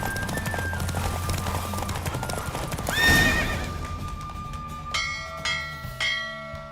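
Rapid clip-clop of horse hooves at a gallop in The Witcher 3: Wild Hunt, with a horse whinnying and bell-like chimes ringing over the busy, loud hoofbeats.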